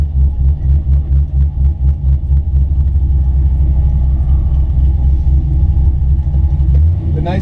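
A 1965 Chevrolet Chevelle muscle car engine rumbles deep and throaty up close, its low pulsing loud and continuous, rising slightly at the end.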